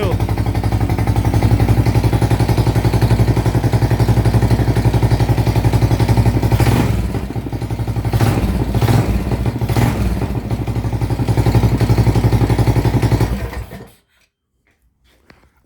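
A Coleman Stage 3 420 mini bike engine runs loud and close with a steady throbbing idle, a few revs and clattering surges in the middle, then cuts off abruptly into silence.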